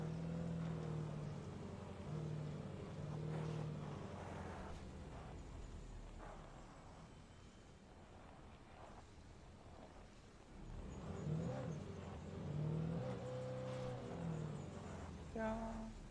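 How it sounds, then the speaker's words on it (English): A car driven in Alan Wake: a steady engine drone rises and falls in pitch as the car revs and slows, fading midway, then surging again, with faint talk underneath. "Oh, jeez, I cannot drive this car to save my life."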